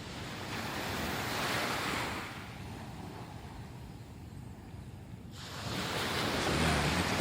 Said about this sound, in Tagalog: Malalaki ang alon dun sa kabilang side.